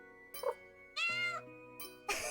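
Several short, synthetic-sounding cat meows in quick succession from the Nintendo Switch game Umbraclaw, clear and close, over a steady electronic musical drone with faint chime-like tones.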